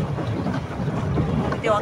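A boat on a swimming pool at RDA Park in Rajshahi moves along under heavy wind buffeting against the microphone. A low, rumbling wash carries on throughout.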